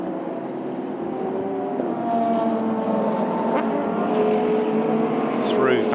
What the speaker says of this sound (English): who loses out now to Dominic Farnbacher, so the Lexus able to eventually overhaul the Lamborghini